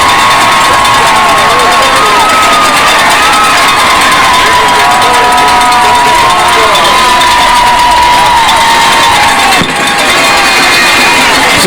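A high school football crowd roaring and cheering after a 75-yard touchdown run, a loud sustained wall of shouts and whoops from the stands, with excited children's voices mixed in.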